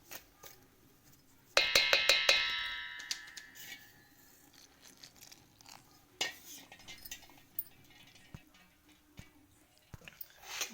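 A metal spoon clinks and scrapes against a pot while stirring soaked moong dal: a bright cluster of rapid clinks early on, then scattered softer taps and scrapes.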